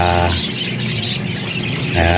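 Pet birds chirp and tweet in quick bursts over a busy backyard mix, with a low steady hum underneath running the whole way.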